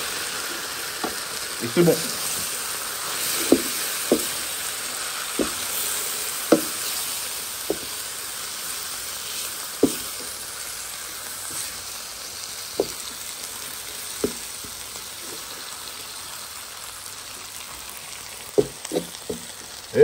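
Shrimp and snap peas sauté in a pan while being stirred, with a steady soft sizzle and scattered clinks and knocks of the utensil against the pan; a voice speaks briefly.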